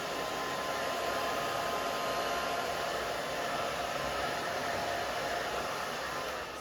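A handheld hair dryer runs steadily on its low setting while drying growing-out pixie-cut hair, a continuous close, even airy whoosh with no pauses or talk.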